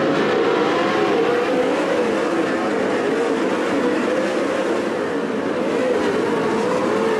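410 sprint cars racing in an A-Main at Attica Raceway Park, a loud, continuous roar of several engines at full throttle that blends into one dense drone heard from trackside.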